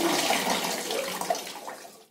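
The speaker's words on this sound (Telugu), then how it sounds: "ఇప్పుడు 2 టైమ్స్ నీట్గా వాష్ చేసుకుందాము." Soaked rice and urad dal are washed in water for dosa batter, a steady close swishing and sloshing that fades out at the end.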